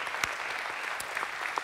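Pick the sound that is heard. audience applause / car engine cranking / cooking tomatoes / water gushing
audience applause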